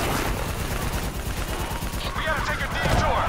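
Rapid gunfire in Call of Duty Black Ops 3, aimed at a VTOL while enemy troops advance, rattles densely and loudly throughout with dull booms beneath and faint radio chatter mixed in.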